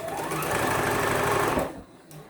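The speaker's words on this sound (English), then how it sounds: "flip them together and sew them together" A sewing machine runs fast and steady while stitching quilt blocks together for a Christmas tree quilt background, then stops near the end with a short mechanical clunk.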